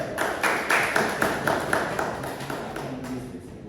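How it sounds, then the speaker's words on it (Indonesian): A classroom group claps during a student presentation, a steady patter of hands with quick rhythmic bursts that gradually fade. "Tepuk tangan kita ada"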